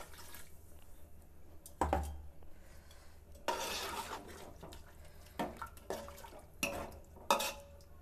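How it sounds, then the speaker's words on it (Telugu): Water is poured into a pan of curry masala of ginger-garlic paste, chilli powder and coriander powder for boti curry, giving a few short splashes and clinks over a quiet kitchen background. "ఇంకా అందులో వాటర్ యాడ్ చేసుకోవాలి."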